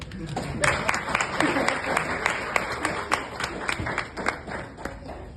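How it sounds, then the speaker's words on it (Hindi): Audience applause at a comedy show, a few seconds of scattered sharp claps with crowd noise, mixed with some background voices. "यार तालियां बजा रहे हैं।"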